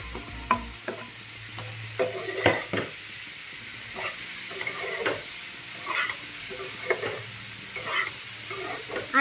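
Chopped onions go into a hot pan for a beans curry and fry with a constant sizzle, punctuated by repeated scraping, tapping stirs of a utensil against the pan, close up and without speech.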